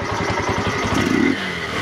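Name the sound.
motorcycle engine starting and running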